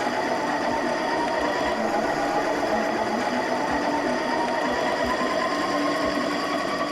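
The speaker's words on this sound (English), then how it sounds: "So they are grinding grain, and they will use that grain in the pizza dough" A mill grinds grain for pizza dough, giving a steady, dense mechanical whir with a fast rhythmic rattle that runs unbroken and fairly close throughout.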